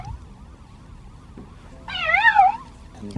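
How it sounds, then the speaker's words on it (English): A toy cat gives a single short electronic meow, clear and close, rising out of faint background noise near the end. "Here's the one for the cat."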